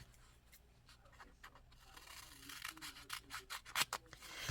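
Scissors cutting out a washi tape paper image: soft, close snipping and rubbing of paper that grows into a series of quick faint cuts, quiet with no talking.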